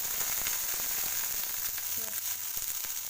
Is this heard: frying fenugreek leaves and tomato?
yes